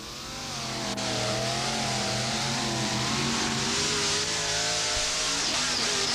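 A monster truck engine revs and drones loudly and continuously at a monster truck show in Bowling Green, Ohio, its pitch rising and wavering as it strains, with no voices.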